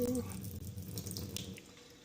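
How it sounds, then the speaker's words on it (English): Water pours and trickles as excess water is drained from soaked sorghum grains, a quiet continuous splashing flow close by with a few faint drips. "Remove the excess water."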